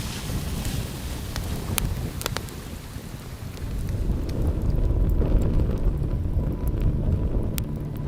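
Wind gusts across the open shore of Nueltin Lake in the remote Nunavut barrenlands, a low rumbling roar buffeting the microphone and swelling louder partway through, with no voices.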